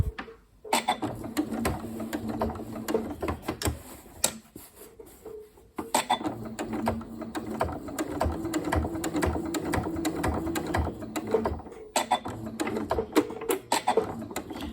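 Sewing machine stitching a fabric ghost-themed cushion, running in steady mechanical bursts with brief pauses around 4.5 and 12 seconds, close and fairly loud with no talk.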